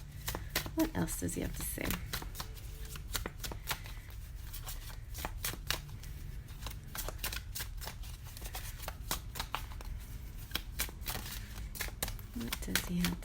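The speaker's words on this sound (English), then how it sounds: "Give it a one shuffle." Tarot cards being shuffled during a love reading, with a dense, steady run of quick papery riffles and flicks close by, while a person speaks over the shuffling.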